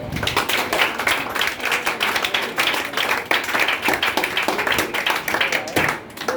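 Applause for teachers at a school gathering, dense, loud clapping from a crowd that runs continuously for over six seconds with uneven, rattling slaps close by.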